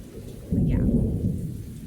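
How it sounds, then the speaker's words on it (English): A thunderstorm with heavy rain hissing steadily as a deep roll of thunder rumbles in loudly about halfway through and lingers, fading slowly. "the thunder is kind of really crazy right now"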